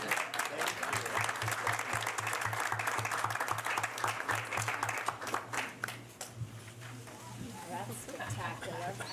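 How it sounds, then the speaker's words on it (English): Applause at a school board meeting: a room claps briskly for several seconds, then the clapping thins and fades into scattered claps and low chatter, with a steady electrical hum beneath. "All right, and a round of applause."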